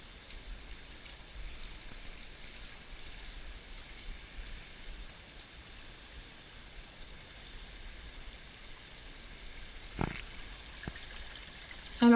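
A small stream trickles and flows steadily, soft and continuous, with a brief splash or knock near the end.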